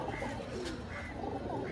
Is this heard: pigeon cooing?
yes